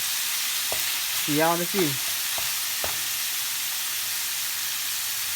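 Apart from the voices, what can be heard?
ground beef frying in a pan without oil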